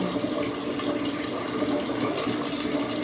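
Water pours and splashes steadily for a few seconds during a water-towel challenge, a close, continuous rushing flow with no voices.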